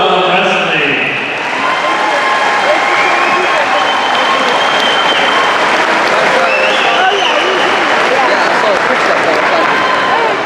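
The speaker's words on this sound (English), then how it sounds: "Please give a round of applause to the current members." Audience applause for current members at a National Wrestling Hall of Fame induction, loud continuous clapping from a large crowd, steady and unbroken from start to finish.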